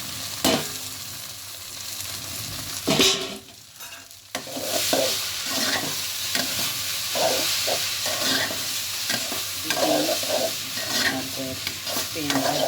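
Pasta frying and being stirred into an onion mixture in a pan, a steady close sizzle with repeated scraping stirs and utensil knocks throughout.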